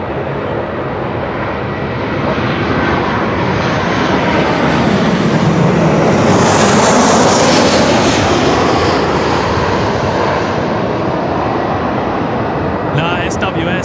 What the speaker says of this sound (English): Qantas 471 coming in from Sydney